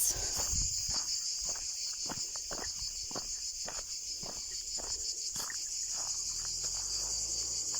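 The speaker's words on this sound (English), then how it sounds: "where there's cicadas going full blast" Cicadas buzz loudly and continuously in an olive grove in Tuscany in August, a shrill steady drone throughout, with soft footsteps and rustling underneath.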